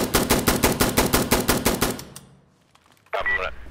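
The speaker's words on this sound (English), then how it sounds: "Fast and accurate single fire taps are immediately going to set you apart from their enemies, so make sure you're using single fire." Close, loud gunfire from Insurgency Sandstorm: a rapid burst of roughly a dozen sharp shots over two seconds that fades into quiet, then one brief louder noise near the end.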